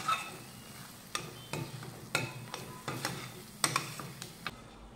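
Spoon stirring coriander powder and garam masala frying in a pan for matar paneer, giving a run of soft scraping strokes about every half second over a low, steady sizzle, fairly quiet and with no talk.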